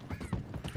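Horse hooves clip-clop in Red Dead Redemption 2 in a quick, uneven run of close hoofbeats, mixed with other game noise.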